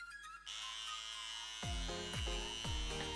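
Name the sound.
electric hair clipper trimming hair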